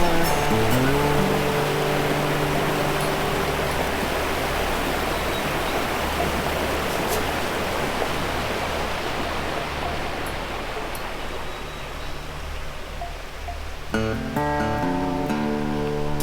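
Icy cold mountain stream in the Victorian High Country rushing steadily as a broad, continuous wash of water, close and loud, ending with a few brief clunks and tones.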